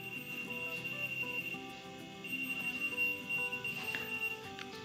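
A whistle-activated key finder keychain sounds a shrill, continuous high electronic beeping over a cluttered background with some tonal noise, moderately loud throughout, with no talking over it.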